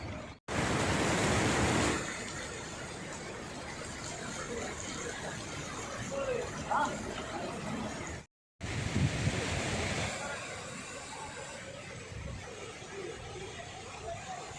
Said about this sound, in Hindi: इन पत्थरों के ऊपर से जो पानी गिर रहा है ना